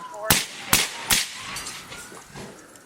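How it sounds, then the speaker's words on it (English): Police officers fire three sharp, loud gunshots in quick succession, followed by a fainter crack or two and a noisy outdoor tail. "Shots fired by the police."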